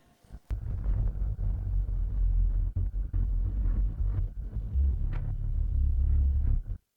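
A lightning strike in a drama opens with a sharp crack, and a deep, heavy thunder rumble follows and rolls on steadily for several seconds before cutting off abruptly.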